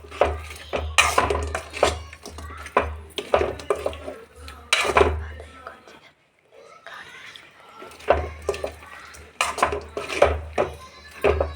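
Metal utensil scraping and clanking against a pan while fried cauliflower gobi balls are tossed and mixed, close and busy with a brief pause midway, faint voice in the background.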